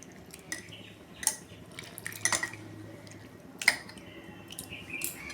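Roasted lentils are rinsed in water for vegetable khichuri: soft splashes, drips and sloshing, with occasional clinks of a metal bowl or utensil, all fairly faint and close.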